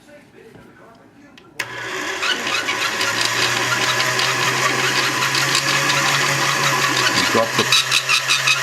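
Electric pasta machine switched on while making chocolate fettuccine: a sudden start followed by a steady, loud mechanical whirring hum that holds for several seconds, with a brief voice in the background.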